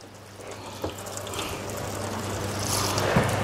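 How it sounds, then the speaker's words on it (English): Water splashes and runs steadily over a car's coated surface, a soft continuous wash with a brief louder splash near the start, moderately close. "Just putting a blanket of water on it."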